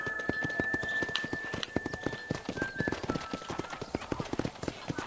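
Horse hooves clip-clopping in a steady riding rhythm in the Western video game Red Dead Redemption, moderately close, with a talking voice running over the hoofbeats.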